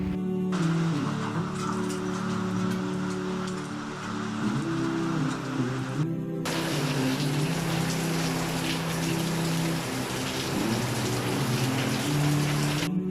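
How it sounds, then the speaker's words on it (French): Heavy storm rain pours steadily outside, a dense, constant wash of drops hitting surfaces with no letup, alongside a low steady hum. "Là d'accord, là c'est de la vraie pluie là."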